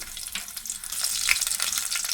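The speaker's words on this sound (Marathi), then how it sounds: "आता आपण फोडणीला देऊया. तेल घालूया." Crushed garlic, cumin and mustard seeds crackle and sizzle in hot oil, a dense, close frying hiss that grows busier and louder, with no talking.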